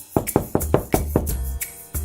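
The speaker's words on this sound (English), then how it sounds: "The hungry wolf knocked on the door." Sharp knocks strike a wooden door in a quick series of about eight raps, loud and close, as a storybook sound effect.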